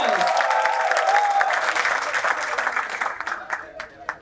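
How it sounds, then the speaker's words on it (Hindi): Loud audience applause fills an offline trading masterclass hall, a dense roar of clapping that thins into scattered individual claps near the end, with a voice talking over the opening seconds. "एक बार जोरदार तालियां हो जाए guys."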